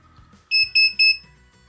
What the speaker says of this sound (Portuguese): ele é meio chatinho, às vezes fica bipando